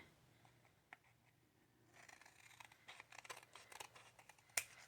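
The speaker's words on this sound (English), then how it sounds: "I'm just going to trim" Scissors trim a paper scrap for a pocket craft project, a run of quick, close snips clustered after a quiet start, ending with one sharper cut; faint and alone with no talk.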